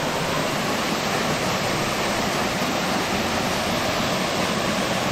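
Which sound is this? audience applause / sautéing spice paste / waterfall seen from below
waterfall seen from below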